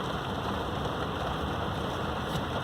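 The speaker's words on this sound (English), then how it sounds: "this rain really is picking up and it's cold outside" Steady rain falls outdoors on a cold day, a continuous hiss of drops on surfaces, even and moderately loud with no voices.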